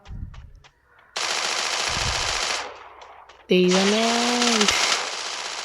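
Bursts of rapid automatic gunfire in the Free Fire shooter game, loud and continuous in two long stretches separated by a quieter pause, with a player's voice exclaiming between them.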